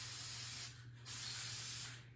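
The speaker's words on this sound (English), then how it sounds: "So let's go ahead and spray it one more time." An aerosol spray can hisses at close range onto a vintage primitive rabbit picture frame in two long bursts with a short pause between, over a low steady hum.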